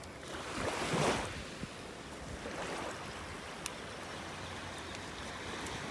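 Ocean waves washing onto a beach on the North Naples, Florida shore as the tide comes in, a soft rushing surge swelling and fading with steady background wash.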